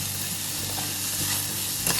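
Rice for masala pulao sizzles and crackles steadily as it is stirred in a hot pan, close and fairly loud, with no one speaking.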